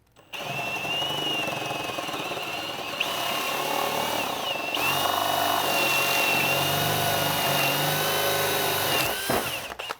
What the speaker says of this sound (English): that's what a Forstner bit is known to do. Now, we're going to be demonstrating this on plywood.